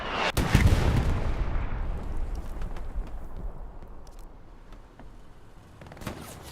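Rocket blast and gunfire in the WWII shooter Hell Let Loose at Utah Beach, opening with a heavy boom that rolls into a long rumbling decay while scattered distant shots crackle in the background.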